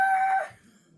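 A man imitates a rooster crowing, a single loud, close, tonal call that cuts off after about half a second and leaves near silence.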